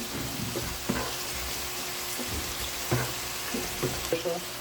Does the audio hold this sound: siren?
no